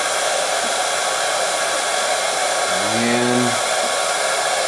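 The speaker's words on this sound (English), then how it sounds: "we're going to get the hair dryer back out and dry that" A hair dryer blows steadily and loudly throughout, drying paint on a swimbait lure, with a brief low tone partway through.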